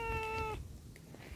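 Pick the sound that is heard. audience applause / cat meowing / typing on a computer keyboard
cat meowing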